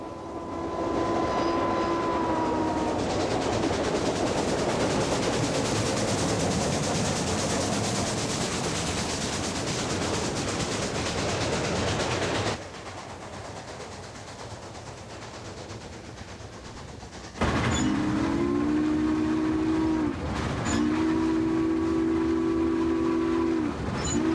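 A steam train rumbles past with loud chuffing and clanking, its whistle sounding at the start and again in repeated blasts near the end.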